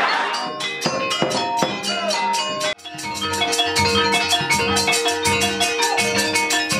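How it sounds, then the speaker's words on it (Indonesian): Gongs, drum beats and a Banjar gamelan ensemble ring out loudly at a traditional Banjar wedding, with a steady rhythm of bright metallic strikes and a brief pause partway through. "Bunyi gong, ketukan gendang, serta gamelan Banjar pun bergema mengiringi persandingan"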